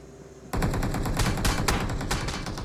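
Automatic gunfire in PUBG Mobile erupts suddenly after a quiet moment into a loud, sustained rapid burst of shots with a few stronger cracks, with no voices.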